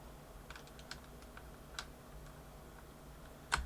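Keycaps being fitted onto a computer keyboard, a handful of sparse, faint plastic clicks and taps over quiet room hiss, ending with a sharper cluster of clicks.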